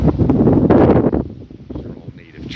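Hurricane-force wind during Hurricane Helene in Orange Park, Florida, roaring through tall Georgia pine trees in a loud, close gust that buffets the microphone and then eases to a lighter rush.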